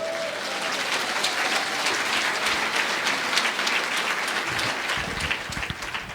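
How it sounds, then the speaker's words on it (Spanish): A church congregation in Sucre, Bolivia claps together in sustained, steady applause, dense and even for several seconds with a few louder individual claps near the end, no speech over it. "Suelta aplausos, Iglesia de Cristo."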